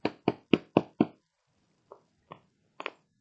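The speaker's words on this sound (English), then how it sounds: "She had knocked on the door before Bella" Knocking on a house door: five firm, evenly spaced knocks close by, then a pause and three softer, scattered knocks, with no voices.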